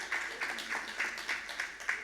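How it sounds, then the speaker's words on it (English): Applause from an audience at a healthcare conference session greets a surgeon being introduced, with soft rhythmic claps in a steady pulse rising and falling through the moment, moderately loud and slightly distant, with no talking over it. "Please give a big round of applause to Dr."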